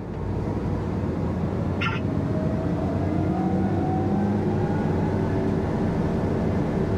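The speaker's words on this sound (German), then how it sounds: "Hier gebe ich jetzt die Drehzahl hoch." The engine of a combine harvester runs at a steady drone close by, with a faint rise in pitch as the threshing unit's revs are brought up during a wheat harvest.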